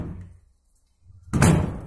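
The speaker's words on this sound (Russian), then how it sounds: "Окна у них от застройщика вот так вот закрываются." A developer-fitted apartment window is pushed shut, landing with one loud, sharp thud after a brief quiet, the impact ringing out close by and alone.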